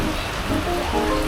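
Heavy rain in Georgetown, Penang, falling in a steady, dense hiss with no pauses and no voices.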